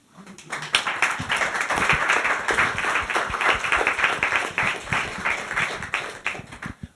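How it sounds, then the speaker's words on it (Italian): Audience applause at a university event in New York, a sustained round of clapping from a seated crowd that starts abruptly and holds steady for several seconds. "you basically gave her an applause to her slogan"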